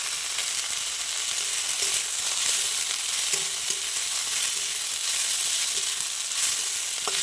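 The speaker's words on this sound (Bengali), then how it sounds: "এই রকম করে সজনে ফুলটা আর পেঁয়াজটা আমি ভেজে নিয়েছি" Drumstick flowers and onion fry in a pan, giving a steady, close sizzle with occasional light clicks and scrapes of stirring throughout.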